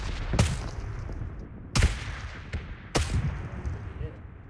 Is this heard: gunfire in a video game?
yes